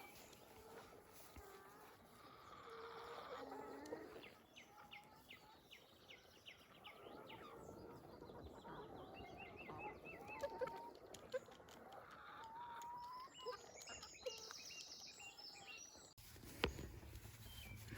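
Free-ranging farm chickens cluck and chirp outdoors in a steady, scattered chorus of faint calls at moderate distance, with some broadband outdoor noise.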